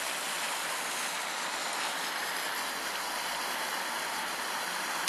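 The Vistula river flows steadily, a dense broadband rush of water like a stream or small waterfall, continuous and fairly loud with no voices.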